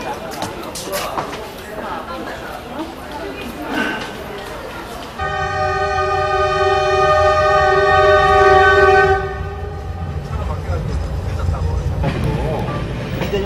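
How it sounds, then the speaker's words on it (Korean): Overnight sleeper train in China heading inland through Shandong province, rumbling steadily, with a long loud horn blast sounding midway before fading back into the running noise. "기차는 산동성의 내륙으로 향하고 있었다."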